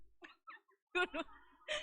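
A few short, sharp coughs close by, following some brief vocal sounds, then a burst of raspy coughing near the end, at a church youth Christmas event.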